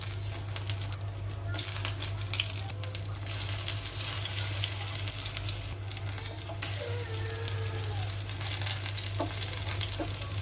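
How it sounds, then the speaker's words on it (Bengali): Pumpkin fritters fry in hot oil with a constant, close crackling sizzle and no voices. "এক পাশ ভাজা হয়ে গেছে, আরেক পাশ করে দেব।"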